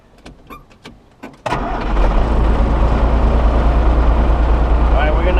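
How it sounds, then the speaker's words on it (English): A Class A truck engine turns over after a few faint clicks and a brief voice. It catches into a loud, deep, steady rumble that fills the rest of the clip. "engine running."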